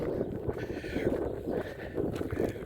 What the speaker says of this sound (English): It's warm, but it's windy, so I apologize for the wind.